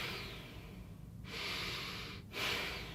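Deep, slow breaths drawn in during a beginner's home meditation, with long airy inhalations in a steady rhythm, close and fairly soft, and a brief pause between them.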